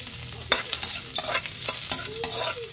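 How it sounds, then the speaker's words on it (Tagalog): Garlic sautés in a hot pan, a continuous close sizzle with repeated scraping stir strokes from a spatula, busy and steady throughout with no voices. "Gisa itong ahos."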